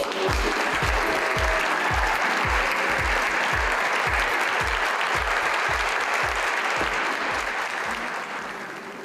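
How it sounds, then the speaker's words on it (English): Audience applause at a graduation ceremony, a dense, steady wash of clapping hands that fills the room and tapers slightly at the end, with no voices over it. "let's give it a round of applause"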